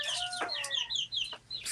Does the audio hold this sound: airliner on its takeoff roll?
no